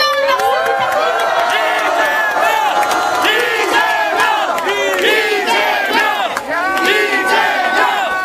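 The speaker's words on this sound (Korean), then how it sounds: "여러분 뜨거운 박수 부탁드립니다." A large crowd at a political rally in Gwangju roars with cheers, whoops and chanting shouts, loud and continuous throughout, a dense wall of many voices with scattered applause beneath.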